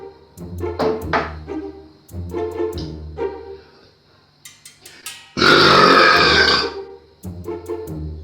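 A very loud, long burp in an Australia-versus-UK burping contest, erupting from about 5.4 to 6.8 seconds after a man's speech and tapping sounds, and ending with more talk.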